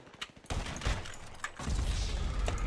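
Sniper rifle fire in a Grand Theft Auto 5 Online match: a few sharp, quiet cracks and thumps spaced over a couple of seconds, with a rumbling wash of game noise in between.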